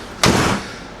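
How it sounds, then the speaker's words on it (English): The back doors of a 2010 CCT vehicle shut with a single loud, close slam, followed by a brief decaying rumble and then quiet. "let me close the back doors so I can show you better one of the cool features that this thing has."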